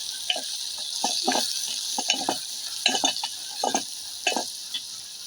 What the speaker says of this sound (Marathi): आता हे मसाले व्यवस्थित खोटीमध्ये भाजून घ्यायचे आहे